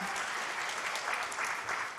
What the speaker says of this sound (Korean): 박수라도 한번 쳐주세요